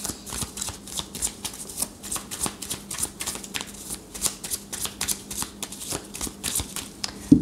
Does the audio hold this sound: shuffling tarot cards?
yes